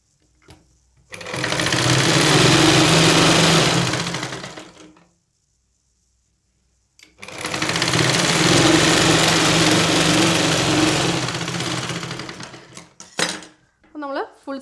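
Electric sewing machine stitching a folded sleeve hem on a churidar without lining, running in two long steady bursts with a pause between, loud and close, with brief light clicks at the end.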